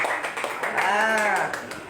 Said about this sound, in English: give me one round of applause, please. Clap your hand.